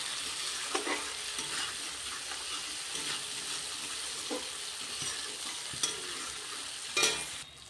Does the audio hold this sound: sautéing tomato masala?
yes